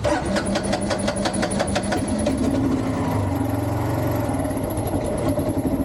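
A Kawasaki KLR motorcycle engine runs rough and rich at low RPM below 1,000, sputtering and uneven. It sounds near and steady throughout, with an irregular chugging pulse and no speech.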